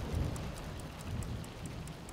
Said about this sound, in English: Looking real stormy out there.